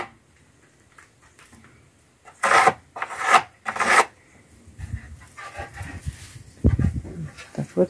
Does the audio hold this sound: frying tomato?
no